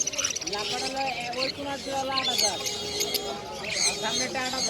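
Many budgerigars and lovebirds chirping and chattering together nearby at a bird market, a busy overlapping twitter mixed with people talking.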